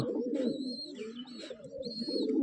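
Domestic pigeons cooing in a pigeon loft, with a low continuous murmur of overlapping coos throughout and brief higher chirps above, close and steady with no talk.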